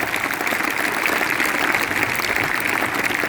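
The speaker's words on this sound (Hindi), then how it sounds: "एक बार जोरदार तालियां इनके लिए" Loud, dense applause from an audience at a motivational speech, a steady close roar of clapping filling the short stretch without a break.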